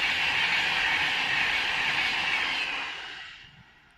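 A Class 390 Pendolino train roars past close by at speed on the West Coast Main Line at Bushey, with a broad rushing hiss, then fades away quickly over the final second.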